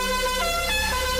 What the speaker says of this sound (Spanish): lo mejor que tenía el auto era la bocina